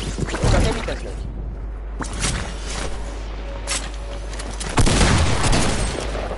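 Gunfire in a Fortnite match, bursts of shots and booms rattling out in clusters, loud and close, with a player talking over the action.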